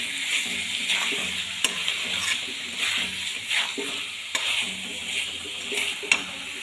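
Eggs stirred into a frying dhaba-style egg curry, a constant sizzle under repeated scraping strokes of a spoon in the pan, with a few sharp metallic taps against the rim.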